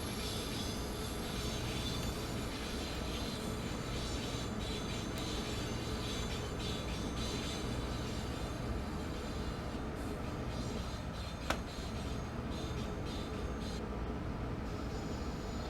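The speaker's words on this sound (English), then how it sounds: "love seeing a train do its sort of snaking action like this through sets of points." A train in Train Sim World 3 on the upgraded Northeast Corridor near Boston rolls slowly through sets of points at about ten miles an hour, a steady low rumble and hum with faint wheel squeal and a sharp click near the end.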